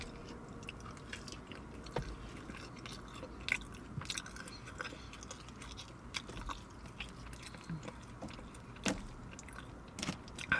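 Five Guys fries being eaten up close, with soft, continuous chewing and occasional crunchy bites over a quiet room background, and no speech.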